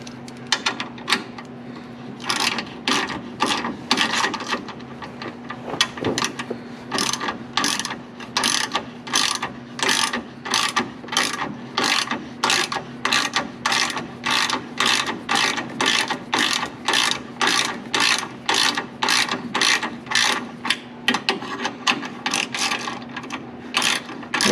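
Hand ratchet clicking steadily while threading a bolt on a 1972 Corvette, a long run of close, sharp, evenly paced clicks with brief pauses between strokes.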